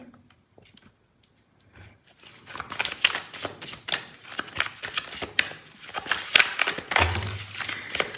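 Tarot cards shuffled by hand, a quiet pause giving way to steady, rapid riffling and sliding from about two seconds on, close and fairly loud with no talking.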